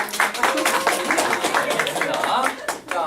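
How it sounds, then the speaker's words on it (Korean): Applause at a senior happiness design center workshop, a dense crackle of many hands clapping steadily for about three seconds, fairly loud and close, with no speech over it. "좋습니다. 박수."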